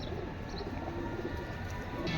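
A pair of grizzle racer pigeons coo softly at a pigeon farm, low murmuring calls set within a busy background.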